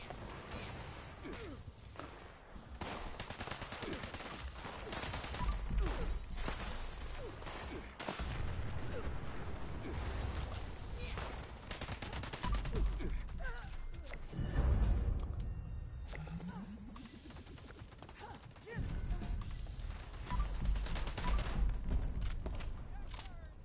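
Gunfire in Fallout 76 during a fight with a three-star bounty hunter, bursts of shots, thuds and whooshes in dense clusters with brief lulls, loud and close across the whole stretch.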